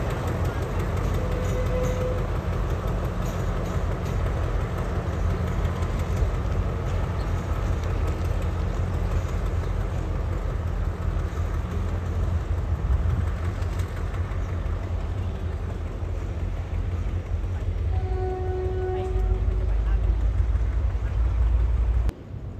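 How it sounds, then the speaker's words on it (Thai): Special train number 1137 runs steadily with a continuous heavy, low rumble of engine and rolling wagons, close and unbroken throughout, with a faint tonal whine briefly rising near the end. "ขณะนี้ขบวนรถพิเศษรถเปล่านะครับขบวนที ่ 1137"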